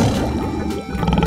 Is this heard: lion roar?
yes